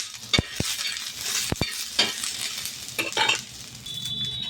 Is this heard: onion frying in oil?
yes